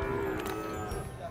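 Cattle at a livestock market in Bacong let out a short, close moo over a busy background of crowd noise.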